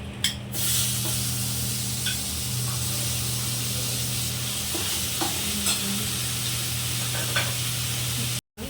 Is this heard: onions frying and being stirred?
yes